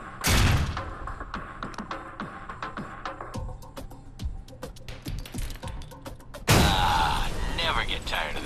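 Gunfire and blasts fill an Alpha Protocol video game scene: a sharp explosion opens, scattered shots and thuds follow, then a second loud, sustained explosion erupts as a grenade sets off a truck's gas tank.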